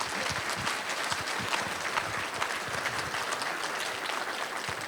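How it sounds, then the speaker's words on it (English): An audience at a school district Teacher of the Year celebration claps steadily and densely throughout, a sustained round of applause without speech. "So let's give them one more round of applause."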